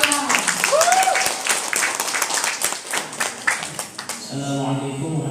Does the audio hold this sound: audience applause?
yes